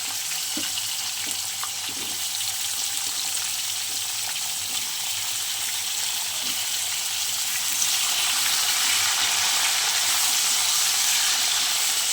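Potato pieces frying in a wok with cumin, bay leaf and dried chilli in the oil, a steady, fairly loud broadband sizzle that swells in the last few seconds, with no voices.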